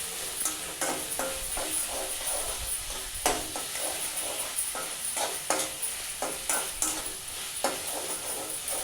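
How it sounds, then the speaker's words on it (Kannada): Soya chunks and vegetables fry in oil with dark soy sauce, giving a constant close sizzle and hiss, while a spatula stirs and scrapes the pan in frequent clicks and knocks. "ನಾವು ಹಾಕಿರುವಂಥ ಸಾಸು ಆಯಿಲಲ್ಲಿ ಚೆನ್ನಾಗಿ ಫ್ರೈ ಆಗಬೇಕು."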